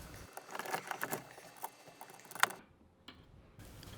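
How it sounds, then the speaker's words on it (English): A 14mm wrench tightens the bolts of a Hi-Lift jack mount on a roll bar, with faint close ratcheting clicks and small metallic rattles over a few seconds in a quiet setting. "I hand tighten it down with a 14mm wrench."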